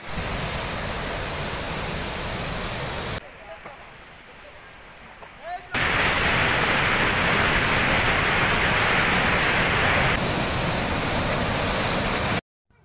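Rushing water at Hogenakkal waterfall makes a loud, steady broadband roar. It dips quieter for a couple of seconds, then returns even stronger before cutting off abruptly at the end.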